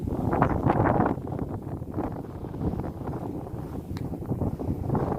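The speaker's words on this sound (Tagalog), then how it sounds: "Yun nga lang po talaga, malakas ang hangin." Strong wind buffets the microphone on a hilltop, a loud, continuous low roar with gusty swells throughout, no voices heard.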